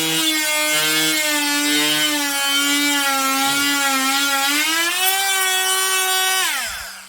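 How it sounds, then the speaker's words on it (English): A first-generation Dremel Multi-Max oscillating tool cuts into wood with a loud, buzzing whine whose pitch wavers under pressure, running close and continuously before spinning down at the end. "I'm going to try it one more time with a bit more force behind the Dremel."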